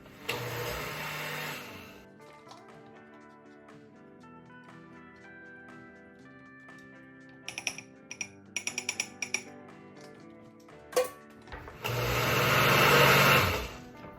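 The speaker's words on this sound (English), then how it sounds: "It goes on my blender, my top goes on, blend it up." A kitchen blender blending crepe batter whirs loudly in a short burst, then quieter clinks and tapping follow before the motor roars again for a few seconds.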